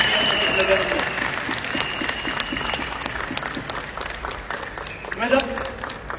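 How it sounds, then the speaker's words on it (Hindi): Seminar audience at a Modicare network marketing event clapping, a steady crowd of applause at moderate level with scattered voices and a speaker's voice rising over it near the end. "अपने लिए तालियां बजा सकते हैं अपने मोदी केयर।"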